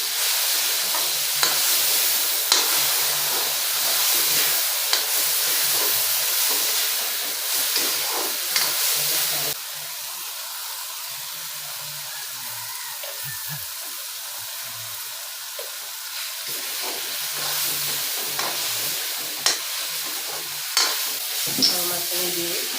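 Mustard paste being stirred in a hot pan while cooking a mustard and small fish curry, a continuous hissing sizzle with scraping stirs, briefly quieter midway, close and without talk.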